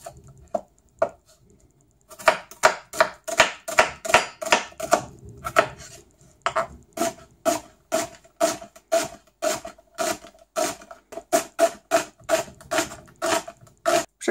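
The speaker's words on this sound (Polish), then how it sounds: "Cebulę kroimy w drobną kostkę." A knife chops onion finely on a cutting board in quick rhythmic strokes, a long run of sharp, evenly spaced taps after a few isolated cuts at the start, close and clear with no talk.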